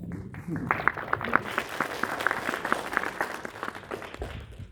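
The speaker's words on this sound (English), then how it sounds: "Another round of applause." A conference audience claps in a moderately loud, steady patter of individual hand claps lasting several seconds, with faint voices underneath before it fades out.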